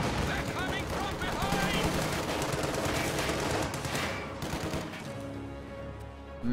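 Rapid machine gun bursts fire in a World War II tactics game as an M3 half-track attacks machine gun positions, dense crackling volleys that thin out near the end while a commentator talks over them.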